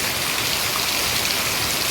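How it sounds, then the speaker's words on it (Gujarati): Steady rain pours down over a Gujarati village, a dense, even hiss of drops hitting the ground, close and continuous, with no voices. "હજી ચાલુ જ છે વરસાદ."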